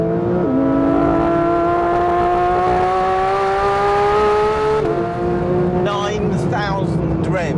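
A Porsche 911 GT3 engine revs hard to around 9,000 rpm, a loud, rising, high-pitched wail held steadily before shifting and dropping away, close and dominant.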